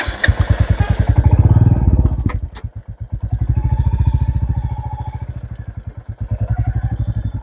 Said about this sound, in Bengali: বাইকের কিন্তু সাউন্ডে চেঞ্জ হয়ে গেছে। আর এই মোটরসাইকেলটা রয়্যাল এনফিল্ড বুলেট